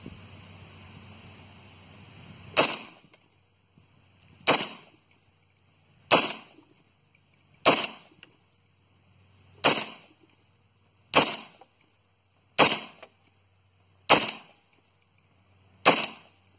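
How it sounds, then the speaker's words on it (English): Pistol fitted with a micro red dot sight fired outdoors, nine sharp, loud shots spaced roughly one and a half seconds apart, each cracking alone over a low steady background. "so let's do some more shooting right now."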